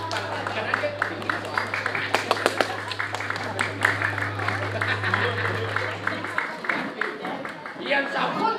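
A crowd at a drama gong theatre performance claps in scattered, uneven bursts over a low steady hum, with voices talking throughout.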